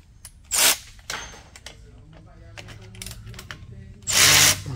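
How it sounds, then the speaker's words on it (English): Brake caliper bolt, 12mm, being loosened on a front brake of a Honda Fit GK, with two sharp ratcheting bursts of a tool at the start and end and quieter metallic handling between. "So now we're gonna open the calipers, and this is a 12mm bolt right here, these two."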